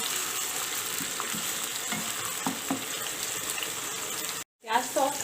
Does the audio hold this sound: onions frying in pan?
yes